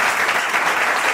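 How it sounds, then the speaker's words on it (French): Close, steady clapping from wedding guests at a civil marriage ceremony fills the whole brief moment, dense and continuous with no voices standing out. "On applaudit. Vos acclamations."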